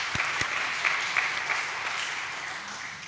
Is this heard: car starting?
no